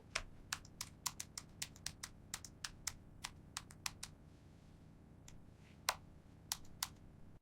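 Typing on a laptop computer keyboard, a run of crisp, close key clicks in an uneven rhythm, then a short pause and a few final sharp taps, with no voices.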